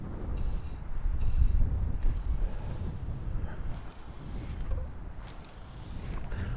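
Strong, gusty wind at Rutland Water buffets the microphone with a low, rough roar that swells and eases in irregular gusts, no other sound standing out.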